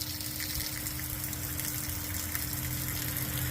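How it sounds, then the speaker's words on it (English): Water pump forcing a steady gush of water out through a hose, a constant rushing stream with a low mechanical hum underneath, loud and unbroken. "And there it is, shooting out water."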